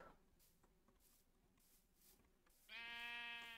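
A sheep bleats loudly in the block-building game Minecraft, one sustained buzzy call near the end after quiet ambient sounds and soft background clicks.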